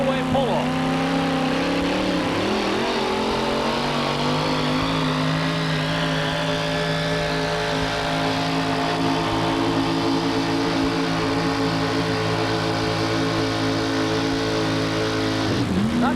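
Monster trucks rev hard and steadily through a four-way pull-off at a 1987 USHRA event in Buffalo. The engines keep up a loud, continuous roar with shifting pitch while an announcer talks over it.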